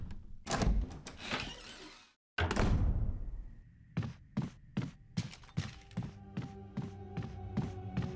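A door in the video game Resident Evil HD Remaster opens with a heavy thunk and a creaking slide. Then comes a steady run of rhythmic mechanical clunks, close and distinct, with no talking.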